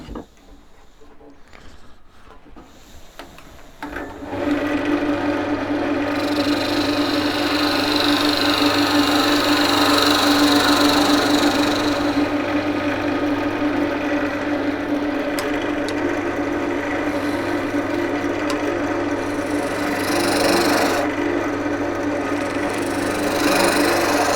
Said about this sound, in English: I'm going to face this off a little bit because it's not very even. Just going to use the spindle gouge on this.